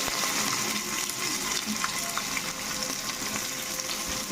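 Onions frying on low heat until golden brown, a steady close sizzle and crackle with occasional faint clinks, no talking.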